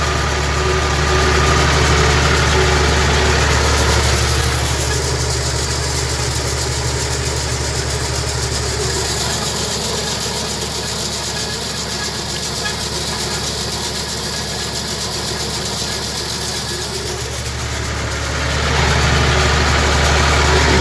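A Massey Ferguson 240S tractor spreading fertilizer over crop fields in series gear at low revs, its engine droning loud and steady throughout without any voices.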